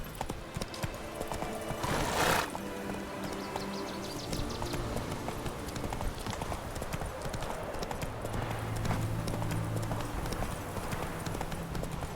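Geralt's horse Roach galloping in The Witcher, a quick steady clip-clop of hooves up close under game music and ambience, with brief voices in the background.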